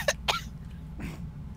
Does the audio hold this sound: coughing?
yes